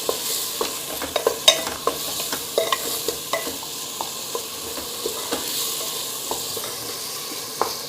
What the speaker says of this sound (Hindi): टमाटर डाल देंगे और 2 मिनट तक हम इसे अच्छे से भून लेंगे।